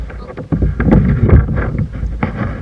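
A kayak paddled on open water in windy West Bay near Panama City, Florida: steady wind buffeting and rumbling close to the microphone, with irregular splashes and paddle strokes running continuously throughout.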